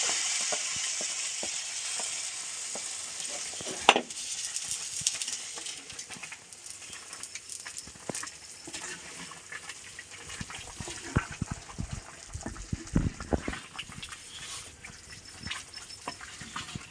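Country chicken curry masala fries in a pot with a continuous moderate sizzle, then liquid is poured in and stirred, bringing bursts of bubbling and scraping; no talking.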